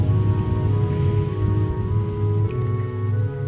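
Rain falls as a sound effect in an animation score, a steady dense patter that holds at even loudness beneath a low sustained musical drone.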